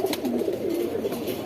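Pigeons coo softly in a house loft, low rolling throaty calls running steadily through a brief moment, close by and alone.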